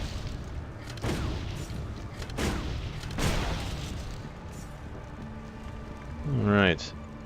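Engineer's cannon in Torchlight 2 fires three heavy booming blasts at roughly one-second intervals, each followed by a rumbling tail, then a rising mechanical whir sweeps upward near the end.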